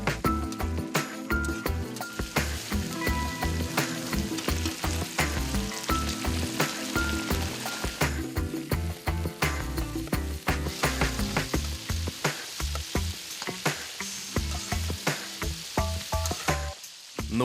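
Fish and onions fry in a pan over a camp stove at a lakeside fishing spot in Canada, crackling with a dense, steady sizzle and sharp pops throughout.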